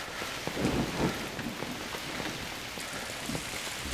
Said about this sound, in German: Ich glaube, das regnet draußen.